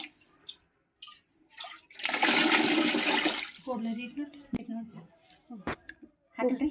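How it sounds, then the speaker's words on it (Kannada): Water poured into a seasoned rice mixture for jeera rice, a dense splashing pour lasting about two seconds, followed by quieter stirring and scraping sounds with a few sharp clicks. "ಮಿಕ್ಸ್ ಮಾಡಿ ಇದಕ್ಕೆ ನೀರು ಹಾಕ್ಬೇಕ್ರಿ"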